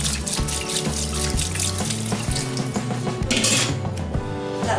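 Cold tap water runs steadily into a kitchen sink to cool freshly cooked food, a loud continuous splashing broken by a few clinks of dishes and utensils.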